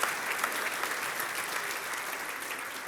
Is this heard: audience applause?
yes